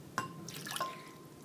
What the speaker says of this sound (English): In a separate bowl, you're going to take some warm water